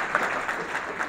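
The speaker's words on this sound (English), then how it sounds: "Give them a big round of applause." An audience at a city State of the City address applauds briefly, a steady wash of clapping close by.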